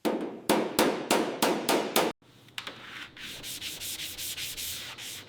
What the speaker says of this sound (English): Hammer and dolly straighten body panels.